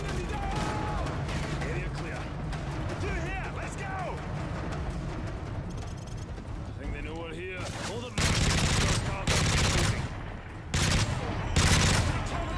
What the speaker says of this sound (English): Oh, I like the sound of this gun.